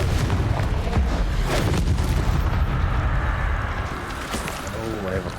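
The Confringo explosive spell going off in Hogwarts Legacy, loud booming blasts and crackling over a dense rumbling bed that eases slightly toward the end.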